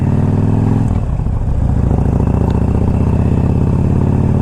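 A 2007 Harley-Davidson FLHT motorcycle engine runs loud and close in the rain, a deep, steady pulsing rumble with a brief shift in tone early on before settling back into its even throb.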